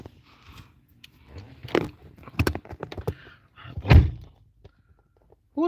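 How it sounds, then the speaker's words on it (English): A door thumps shut indoors amid scattered knocks and shuffling near a streamer's new desk setup, with a loud thud standing out among lighter bumps. "Who the fuck closed the door?"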